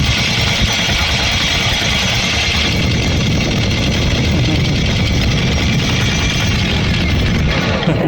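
A boat motor runs steadily during anchoring, a loud continuous rumbling drone with vibration that stays constant throughout, with no voices.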